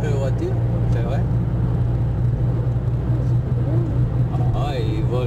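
A car passes by on a road, its steady engine hum and tire rumble running under a French conversation between people, with occasional birdlike chirps above.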